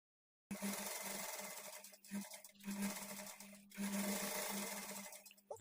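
An electric sewing machine runs close up while stitching a blouse, a fast steady mechanical whir with a humming motor, starting abruptly after a moment of silence and pausing briefly twice between runs.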